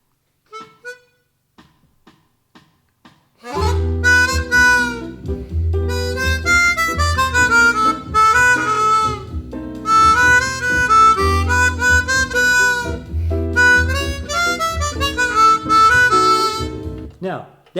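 A chromatic harmonica plays a sustained melodic phrase with sliding notes over a steady low accompaniment, entering after a few faint soft sounds and continuing loud and close to the end.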